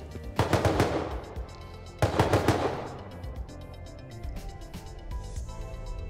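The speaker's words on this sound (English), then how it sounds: "Shots." Gunfire in the survival game Rust: two loud bursts of rapid shots, around half a second and two seconds in, each tailing off into a quieter ambient background with no talking.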